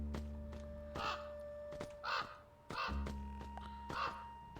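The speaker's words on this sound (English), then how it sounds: "It's the crows." Crows caw in a video game, four or five harsh, evenly spaced calls ringing out over a steady low hum of game ambience, with no talk.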